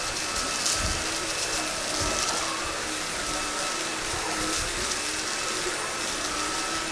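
A Klarpul 580W cordless stick vacuum cleaner running on its high setting, a loud, steady motor whine and airflow roar that stays constant, without speech, throughout.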